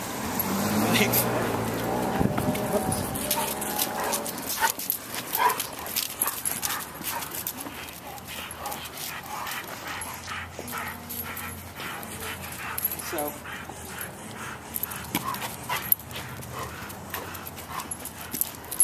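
A dog whimpers and barks in short, agitated bursts while people talk over it, with traffic and street noise in the background.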